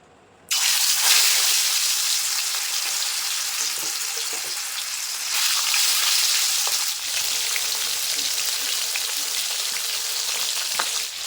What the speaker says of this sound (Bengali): প্রথমে মাছগুলো ভেজে নেবো সর্ষের তেলে